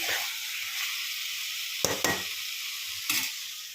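Chicken frying in a pan while being stirred after garam masala and coriander powder are added, a steady close sizzle broken by a few sharp scraping stirs of a spoon against the pan.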